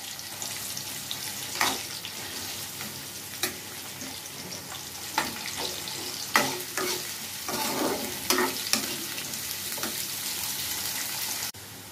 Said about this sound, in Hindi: अब डालेंगे हम ये प्याज